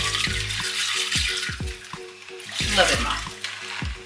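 Rice hits hot oil in a pan and frying sizzle hisses steadily for a few seconds, with faint stirring clatter underneath while a person speaks briefly over it.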